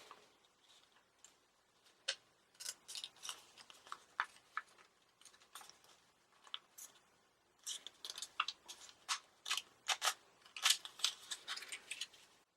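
Scissors snip through paper while a bodice sloper pattern is cut out, producing quiet, close, irregular clicks and crisp cuts in bursts, growing denser toward the end.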